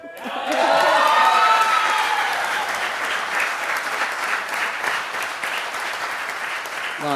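An audience at a Catalan sports awards night breaks into applause, loud, dense clapping that swells quickly and then holds steady before easing slightly.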